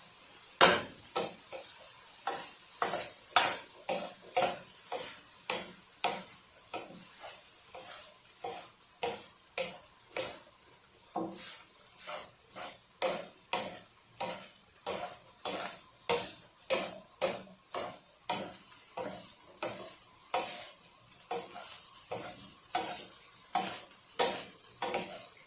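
Saffron-coloured cooked rice is stirred in a frying pan with a steady run of rhythmic scraping strokes over a soft sizzle, close and fairly quiet, with no talk.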